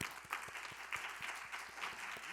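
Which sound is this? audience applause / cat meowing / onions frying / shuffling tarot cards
audience applause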